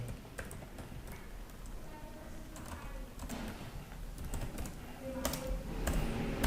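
Typing on a computer keyboard, a steady run of close, light key clicks with an occasional sharper tap, continuous over a faint background hum.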